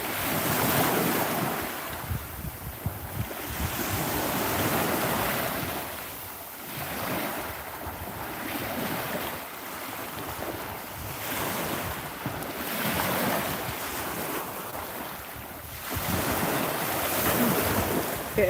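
Surf rolls in along the beach at Maryport Promenade, a steady loud wash with swells rising and falling every few seconds, mixed with heavy wind buffeting the microphone.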